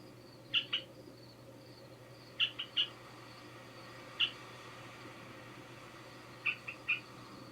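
Small bird chirping in brief, high, bright pairs and triplets spaced several seconds apart, fairly close over a faint steady background hum.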